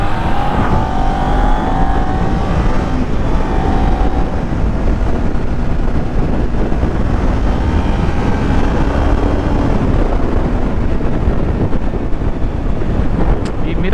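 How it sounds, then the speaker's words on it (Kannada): A Ninja motorcycle cruises at mid-range speed along a highway, its steady engine drone nearly buried under constant heavy wind buffeting on the microphone for the whole ride. "ನನ್ನ ಬೈಕ್ನ ಹೈವೇಲ್ ಚಚ್ಚೋ ಮಜಾನೇ ಬೇರೆ"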